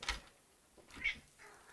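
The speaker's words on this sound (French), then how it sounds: "Le chat qui fait tout tomber." A house cat gives a couple of faint meows indoors, short and quiet against a soft room background.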